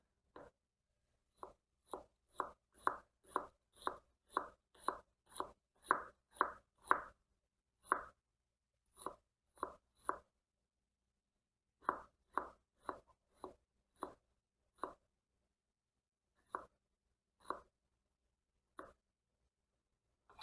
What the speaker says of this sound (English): Now I'm going to chop one small onion.